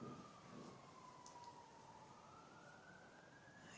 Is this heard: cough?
no